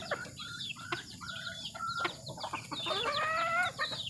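A wild junglefowl (labuyo) rooster clucks in short bursts and then lets out a full, close, loud crow near the end, with no one speaking.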